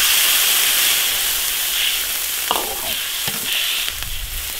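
Water poured into a hot wok of stir-fried beef tendon seasoned with Sichuan peppercorns, chilies and spices sends up a loud, continuous hiss of sizzling and steam, broken by a few brief clanks.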